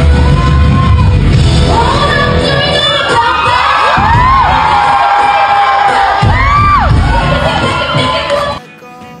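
Studio audience at a TV variety show screaming loudly and continuously as a performer comes out to perform, shrill cheers and whoops rising and swelling, then dropping away abruptly at the end.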